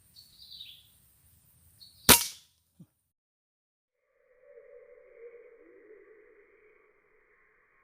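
A single sharp air gun shot rings out at a turtle dove perched in a coconut tree, a loud crack followed by a brief thud, with quiet outdoor ambience and faint distant tones afterward.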